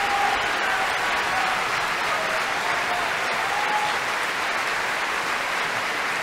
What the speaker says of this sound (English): Thunderous applause here for her astonishing portrayal of that role.